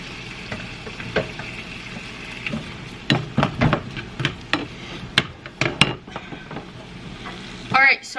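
Food fries and sizzles in a seasoned pan while keto meals are cooked, a steady hiss broken by irregular close clinks and stirring scrapes, with no talking.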